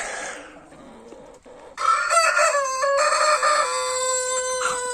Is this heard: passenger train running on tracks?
no